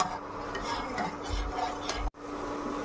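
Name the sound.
stirring semolina in a pan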